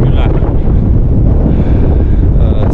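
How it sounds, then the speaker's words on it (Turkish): Strong wind buffets the microphone at a snowy winter camp at minus eight degrees, a loud, roaring rumble that stays constant through the whole short stretch, with no pauses. "Zaten rüzgar esiyor."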